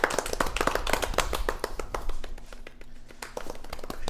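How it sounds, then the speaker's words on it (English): A small group claps hands in a quick, sharp round of applause, individual claps distinct and close, fading into quieter scattered claps near the end. "Round of applause?"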